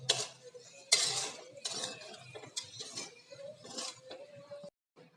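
Sabudana khichdi being stirred and tossed in a pan, with close scraping and clinking of the spoon against metal in irregular strokes, fairly quiet, ending in a short silence.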